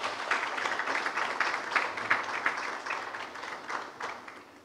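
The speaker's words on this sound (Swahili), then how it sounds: "Makofi mengi sana." Audience applause at a Simba SC club event: a steady wash of many hands clapping, moderately loud and sustained, tapering slightly toward the end with no talk over it.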